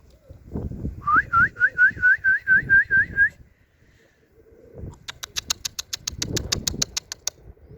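Pigeons in a loft of about fifty birds give a rapid series of whistled, rising calls, then a second burst of sharp repeated clicks and calls, with soft low cooing and fluttering beneath throughout.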